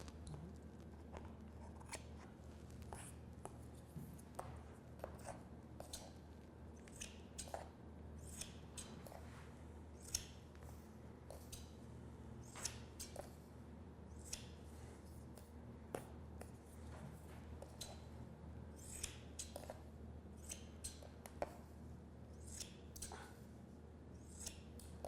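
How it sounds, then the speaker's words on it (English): Oversized hair-cutting shears snip through hair in a salon, giving a steady stream of close, crisp blade clicks and slicing snips, repeating rapidly and evenly throughout over a low background hum. "Just because I'm using these crazy shears doesn't mean like I'm changing my hair cutting approach."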